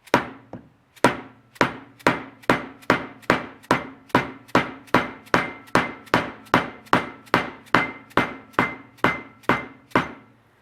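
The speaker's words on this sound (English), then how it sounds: "I can drive them down with my dead blow hammer." A dead blow hammer drives valve seals onto small-block Chevy cylinder heads in a steady, evenly spaced series of about twenty dull, solid blows, each with a short ringing tail.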